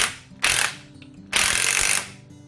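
A ratchet tightens a fresh bolt on an Opel CIH short block engine, giving two quick bursts of rapid clicking close up, separated by a short pause.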